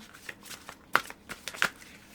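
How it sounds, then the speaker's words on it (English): John Holland Psychic Tarot and Oracle cards are shuffled close up, giving a run of papery riffles and soft slaps with a few sharper snaps, uneven in rhythm and fairly loud. "So let's see my John Holland Psychic Tarot and Oracle cards."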